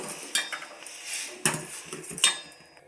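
A metal spoon scrapes and taps against the side of a pot of milk in several short strokes, collecting the cream, close and distinct, with no talking.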